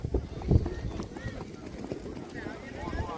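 Quick rhythmic hoof clip-clop from a trotting mare at a horse-riding race, fairly close, mixed with voices chattering and cheering over the steady footfalls.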